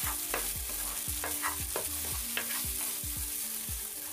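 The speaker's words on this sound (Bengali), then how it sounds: "অল্প একটু রান্না নাড়াচাড়া করে ডিমটা কুক হওয়া পর্যন্ত অপেক্ষা করছি।" Egg frying with snake gourd and meat in a pan while being stirred, a steady loud sizzle under repeated rhythmic scraping strokes of the spatula, close and without talking.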